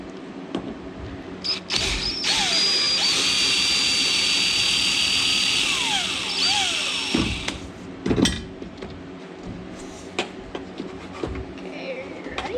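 Power drill driving flathead screws, a loud steady high-pitched motor whine running for several seconds with pitch dips as it bogs, then stopping, followed by scattered knocks and handling sounds.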